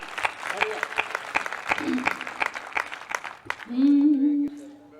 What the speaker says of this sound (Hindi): एक बार तालियां बजाकर अनुमति दीजिए मुझे